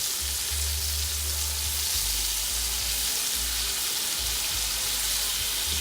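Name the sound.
liver pieces frying in a pan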